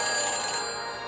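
A telephone rings after dialing in the Back to the Future video game, a faint electronic ring tone that holds steady for about a second, then fades slightly.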